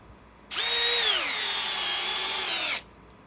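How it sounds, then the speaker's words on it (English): A Milwaukee M12 Fuel third-generation cordless hammer drill whines for about two seconds at steady high speed, its pitch sagging slightly under load as it drives a 4-inch timber screw, then stops abruptly. "These are little 4-inch timber locks with the 3rd generation M12 fuel hammer drill."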